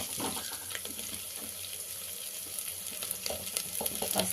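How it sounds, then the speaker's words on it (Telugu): Fresh curry leaves hit a hot pan for a Telangana-style pachi pulusu, producing a faint, steady sizzling hiss scattered with small crackles and pops throughout. "కరివేపాకు, పచ్చి కరివేపాకు వేస్తున్నాను అనమాట"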